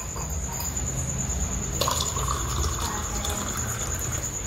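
Water runs from a tap into a freshly washed bucket in a village home, a steady splashing gush with a faint high hiss and a brief louder surge midway.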